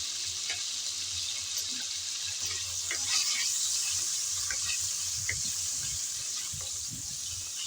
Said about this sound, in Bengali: লবণ আর হলুদ দিয়ে আলু ভালোভাবে ভেজে নেব।